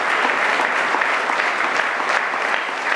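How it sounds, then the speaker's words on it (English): Audience applause for blood donors at a community event, a dense, steady wash of many hands clapping that fills the whole stretch at an even, fairly loud level. "So let's give a round of applause to these donors."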